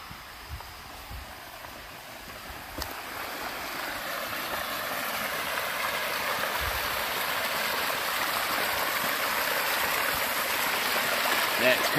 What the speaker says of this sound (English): Got the siphon running